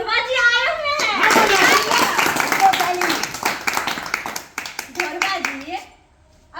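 A group claps together at a village school program with children's voices, brisk applause rising after a spoken line and fading after a few seconds, with talk and chatter mixed in and a voice returning near the end.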